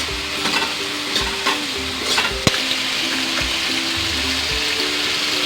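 Onion and tomato fry in a pan for chana dal fry. A constant sizzle runs under repeated spatula scrapes and taps, one sharp clink partway through, then softer stirring, with no talking.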